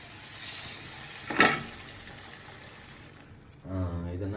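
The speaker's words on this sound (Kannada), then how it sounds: "ನಾನು ಕೊಬ್ಬರಿ ನೀರು ಹಾಕ್ತಾಯಿದ್ದೀನಿ." Coconut water poured into a hot cooking pan on medium flame bursts into a sharp sizzle and hiss, then settles into a soft simmering fizz before someone starts talking.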